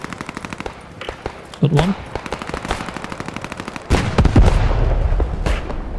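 Rapid machine-gun fire crackles through a World War II shooter game, with dense bursts of shots that grow heavier and deeper toward the end, and a voice speaks briefly.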